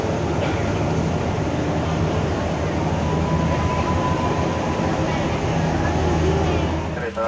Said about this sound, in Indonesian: Ternyata yang datang kereta api